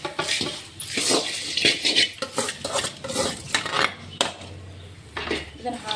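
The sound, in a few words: stirring puffed rice mixture in a pan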